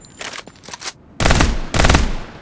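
Gunfire in the battle royale video game Farlight 84: a few quieter shots come first, then two loud, close bursts of rapid automatic fire, each lasting about half a second.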